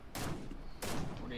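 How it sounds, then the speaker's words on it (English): Gunfire in the Fortnite video game: two sharp, loud bursts of shots about two-thirds of a second apart, each trailing off with a ringing tail. "Gunfire in both directions. There's gunfire at the gas station."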